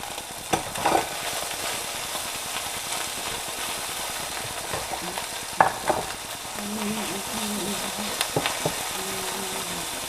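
Chicken stir fry sizzles steadily in a pan kept on warm, a continuous close frying hiss broken by occasional clicks and scrapes of stirring, with no voices.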